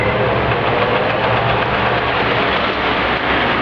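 A Haier HLP23E portable air conditioner gives a loud, steady mechanical drone with a low rumble, holding constant like a motor running at high speed, with no pauses.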